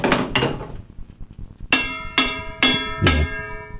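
A marker tapped against a hard object, giving several sharp, ringing metallic-sounding strikes that each decay briefly, spaced roughly evenly and heard alone at close range.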